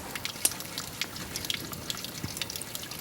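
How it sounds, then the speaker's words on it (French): Tap water poured out of a glass, heard as a close, quiet run of small drips and trickling splashes, with no voices. "Alors Olivier a choisi de vider son verre d'eau du robinet et Geneviève et moi l'autre verre."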